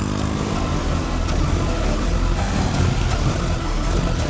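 A motorbike engine drones loudly and steadily for a few seconds, close by, with broadband road rumble and no talk.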